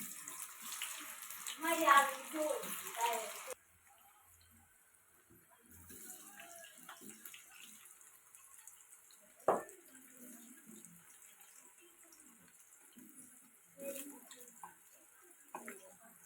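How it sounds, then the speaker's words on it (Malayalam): Banana slices frying in hot oil on a low flame for sharkkara upperi give a soft bubbling sizzle that is stronger at first, then drops to a faint steady hiss with light crackles. "നമ്മുടെ കായ സൗണ്ട് കേൾക്കണണ്ടില്ലേ, നല്ലപോലെ ആയിട്ടുണ്ട്."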